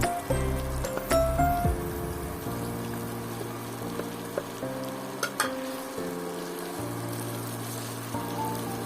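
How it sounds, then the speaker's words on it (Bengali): Potato and paneer curry with spices fries gently over low heat in a pan, giving a quiet, steady sizzle with occasional soft stirring clicks against a faint background hum. "খুব সুন্দর করে কষাতে হবে হালকা আঁচে।"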